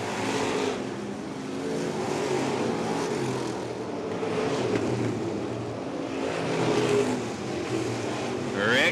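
Stock cars race around the Fairbury dirt track, engines roaring and surging in waves as they pass, with an announcer's voice running over the engine noise.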